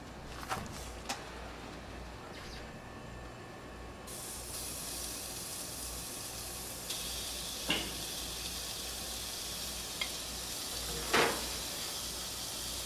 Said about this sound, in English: But I'm gonna start with rendering down the bacon.